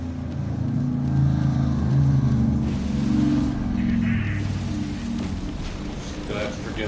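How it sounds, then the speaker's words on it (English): Motorcycles and four-wheelers drive outside with a steady, continuous engine rumble and drone that rises and falls slightly, fairly loud and close, with no other sounds standing out. "You'll have to forgive the motorcycles and the four-wheelers. You hear them a lot here because it's beautiful out."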